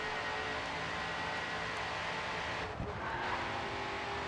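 A car in the racing game Grid 2 drifts and skids as the e-brake is tapped, with steady engine roar and brief tire noise partway through, moderately loud and with no talk.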